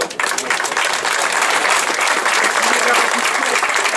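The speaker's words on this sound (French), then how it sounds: "On va l'applaudir" Loud, steady applause from a crowd at a mechanical music and barrel organ festival in Wintzenheim, beginning right away and filling the whole stretch without letting up.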